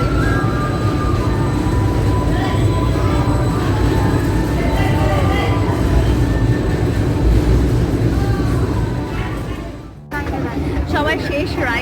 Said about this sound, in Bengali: সবার শেষ রাইড আমাদের হলো টয় ট্রেন।